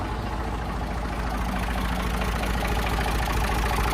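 A used car engine idles steadily at close range, a continuous low, even rumble with no talk over it.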